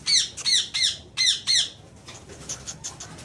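A hand-tamed cockatiel squawks sharply and loudly at close range, five harsh repeated calls in quick succession, then quieter scattered chirps and rustling, with no speech.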